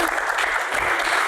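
Loud, dense applause from the audience at an Indonesian political Q&A session, a packed wash of clapping that stays steady from start to finish.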